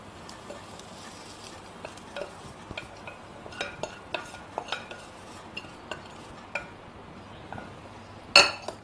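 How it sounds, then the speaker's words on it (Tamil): Coriander leaves are stirred into idli batter with a spoon against a bowl, making soft scraping swirls and scattered light clinks at a moderate distance, ending in one sharper metallic clink. "இப்போ இதை இந்த மாவுல கலந்துக்கலாம்."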